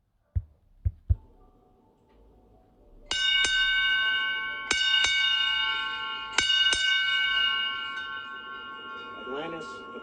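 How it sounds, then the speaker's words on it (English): A ship's bell is rung aboard the International Space Station as space shuttle Atlantis departs on its final undocking, with a few faint taps followed by several clear, ringing strikes in pairs that sustain and decay, heard close. "going to ring the bell for the last time"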